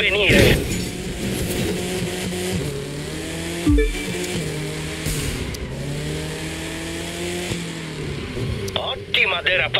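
A BMW M5 drifts in a video game, its engine revving and falling with tire squeal through the slide, loud and close, with a voice speaking over parts of it.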